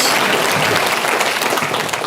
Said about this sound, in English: a round of applause for Robert Fleischer